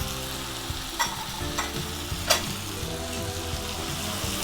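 Diced onions, capsicum and tomatoes frying and being stirred in a kadai for restaurant-style kadai paneer, giving a steady loud sizzle with a few scraping stir strokes.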